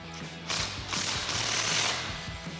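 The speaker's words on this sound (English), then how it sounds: "we've got our 15mm socket on our impact." An impact wrench fitted with a 15mm socket snugs down an exhaust clamp on a RAM 1500, giving loud, close rattling hammering bursts in a few short runs with brief pauses between them.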